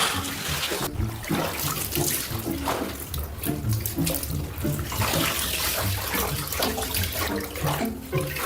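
Liquid is poured over fabric being dyed, a loud continuous gushing and splashing like water running into a tub, steady and close with no talking throughout.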